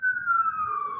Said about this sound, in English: Or ambulances and sirens.